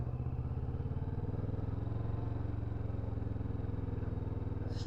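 A Kawasaki motorcycle engine runs steadily at low revs during a practice stop, a continuous close mid-pitched drone with a rhythmic pulse and no clear change in pitch.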